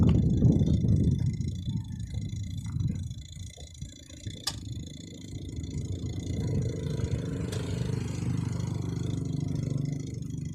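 A washing machine motor runs on a repair bench after being fixed, a steady low mechanical hum with loud rumbling at the start and a couple of sharp clicks partway through.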